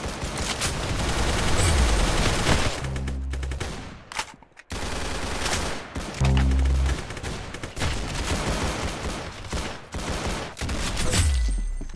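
Dense automatic gunfire from a video game, with loud sustained bursts filling most of the clip, a brief break near the middle, and heavy low booms from explosive shots at intervals; no one talks.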